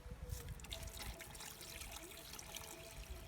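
Water trickling and dribbling faintly while quail eggs are cooked outdoors in a village kitchen, a soft steady liquid patter with small splashes, quiet and close, no talk.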